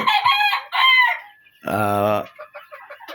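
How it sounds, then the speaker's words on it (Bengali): Fayoumi chickens on a farm, a rooster and a hen, give a loud, close, drawn-out rooster crow between bursts of clucking and squawking, with further softer clucks trailing off at the end. "এখানে দুটা ফাউমি মুরগি আছে, তার মধ্যে একটা মুরুক, একটা মুরগি"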